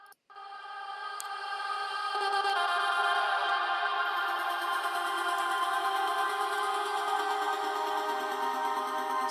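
Gated vocal chops playing over a full electronic mix in a track, a bright, dense stack of sustained synth tones with a steady rhythmic chop running throughout.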